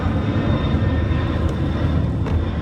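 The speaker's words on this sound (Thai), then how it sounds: "ได้ยินไหมเสียงเครื่องบินอ่ะได้ยินไหม" Airplane passing overhead, a steady broad engine roar and rumble holding at an even level throughout, fairly loud, with no speech.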